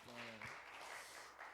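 A church congregation applauds steadily, a dense wash of clapping throughout, with a short low tone at the start.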